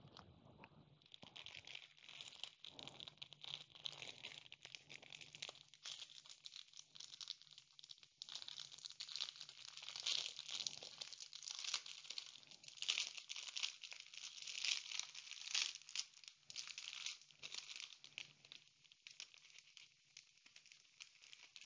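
Plastic zip bags holding diamond-painting diamonds are opened and handled, giving a quiet, continuous crinkling and rustling with soft tearing and pattering throughout, close and steady.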